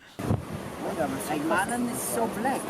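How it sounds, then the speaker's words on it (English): Strong wind buffeting the microphone in a steady roar at Pozo windsurfing training, with people talking over it. "Oh, it's so windy!"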